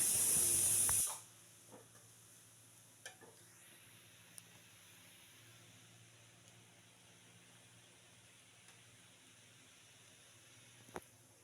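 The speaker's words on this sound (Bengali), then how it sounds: "প্রেসারেও একটা সিটি দিয়েছে" A kitchen pressure cooker, holding onions and gourd, lets out one loud, sharp steam whistle for about a second, then it cuts off to a quiet room hum with a few faint clicks.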